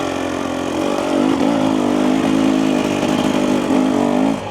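A 2025 Husqvarna TE300 dirt bike lugs at low revs up a hill, its loud, steady two-stroke drone building slightly and holding close with no talk.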